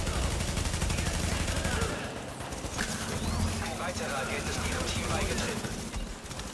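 Sustained automatic fire from a light machine gun in The Division, a dense, rapid and continuous burst that barely pauses, loud and close, with faint scattered background effects.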